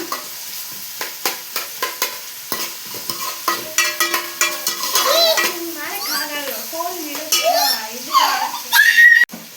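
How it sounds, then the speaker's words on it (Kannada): Onions fry in a pan for a chicken liver gravy, sizzling under repeated scraping and clattering stirs of a utensil against the pan, while people, including a child, talk nearby. "ಈರುಳ್ಳಿ ಚೆನ್ನಾಗಿ ಫ್ರೈ ಮಾಡ್ಕೊಂಬಿಡೋಣ."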